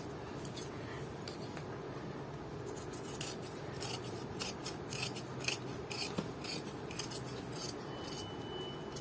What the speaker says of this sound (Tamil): இப்போ இதை வந்து கட் பண்ணி எடுத்துருவோம்.